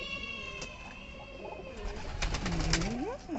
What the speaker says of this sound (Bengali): খামারে এখন প্রত্যেকটা কবুতর ঢুকতেছে।